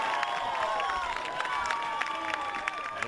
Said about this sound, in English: Crowd cheering for that save from Josh Langdon, just as they did Brown's goal.